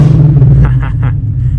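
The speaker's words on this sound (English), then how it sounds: "give you a nice little soundbite of the exhaust" Exhaust of a manual-transmission car revving hard, a deep booming rumble with a few throttle blips rising and falling, loud and close, with no voices.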